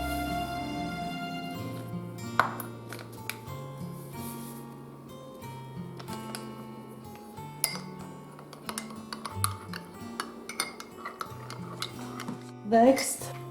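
A spoon stirs and clinks against a cup while gelatin dissolves in a third of a cup of warm water, light irregular scraping and chinks, with a voice talking throughout.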